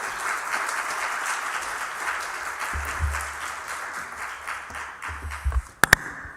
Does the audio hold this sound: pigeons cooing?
no